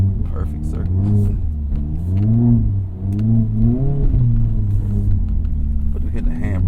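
Mazda Miata ND3 doing donuts in snow, its engine revving and rumbling in rising and falling waves close by, with a voice talking over parts of it.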